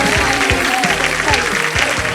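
Loud, sustained applause from a studio audience on the Wheel of Fortune game show, dense clapping that carries steadily through the whole moment with cheering mixed in.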